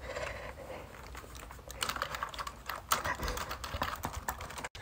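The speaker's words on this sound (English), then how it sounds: "it seems like I'm typing right here" Typewriter keys strike in a dense, irregular clatter, each sharp mechanical hit running continuously and fairly close, with a heavier thump near the end and no talking.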